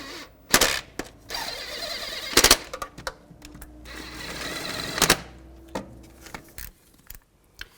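A hand tool clicks and ratchets as it snugs down exhaust manifold nuts on a 2000-06 Chevy Tahoe. The work comes close up in short, irregular bursts with brief pauses, and metal taps sound between them.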